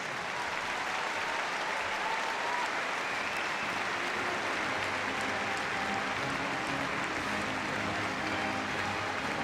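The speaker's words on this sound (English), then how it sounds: "let's give the West Midlands Police a massive round of applause as they leave us" Sustained applause from a large arena crowd at Crufts 2013 as the West Midlands Police dog unit leaves after its display, steady and even for the full length with no pauses.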